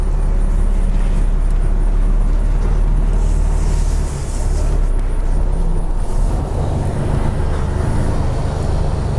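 Lorry engine running loud and steady while the truck manoeuvres to park beside a parked timber trailer, a constant low rumble with faint higher whine and no pauses.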